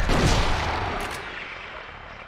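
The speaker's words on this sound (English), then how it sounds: "You just gotta shoot, man. Only takes 2 shots." Gunfire from the video game Silent Hill 2: a loud burst of booming shots at the start that decays into a lingering rumble and reverberant tail.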